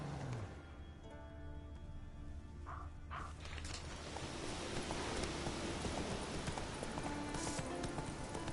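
Roach, a horse in The Witcher 3, trots along with rapid clip-clopping hooves that grow louder and denser as the pace picks up, set against a broad wash of ambient game noise.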